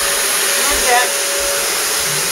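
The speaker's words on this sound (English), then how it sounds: "The lady of the house is vacuuming." A household vacuum cleaner runs steadily at close range, a loud constant whine and rush that holds for the whole stretch, with a brief swell partway through and no talk.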